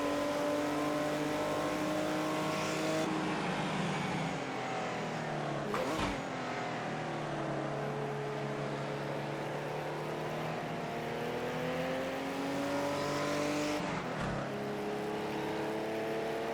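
Vintage race cars, Mercedes-Benz 300SLs and Aston Martin DBR1s, lap Oulton Park in Project Cars 2, engines droning steadily and loudly with rising and falling pitch, a couple of sharp gear-change breaks, and a voice talking over them.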